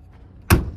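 A baggage door on a 2024 Brinkley Model Z 3100 fifth wheel slams shut on its slam latches, one sharp close thud after a quiet lead-in.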